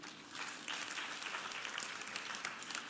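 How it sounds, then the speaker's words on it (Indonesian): Audience applause breaks out during a church sermon, a dense, steady wash of clapping that starts after a brief quiet moment and holds at a moderate, fairly distant level for a few seconds. "Kita beri tepuk tangan untuk kebenaran ini."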